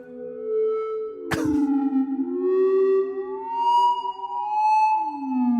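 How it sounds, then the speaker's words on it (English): Randomized warbling beeps and sliding chirps from the ANALOGyGR synthesizer app on iOS, like a chattering robot, with a sharp electronic zap near the start; steady and fairly loud with no voices. "Sounds like R2-D2 drowning in the swamp in Dagobah"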